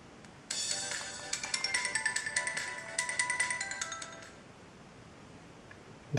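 A Samsung SGH-i560 mobile phone plays its power-on startup tone, a bright, loud chiming melody of rapid repeated notes lasting about four seconds and then fading into quiet.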